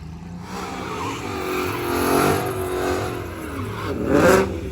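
A Mustang race car at Big Sky Race Week revs loudly and makes its pass, its engine note rising and falling through the run with a surge near the end and some tire noise.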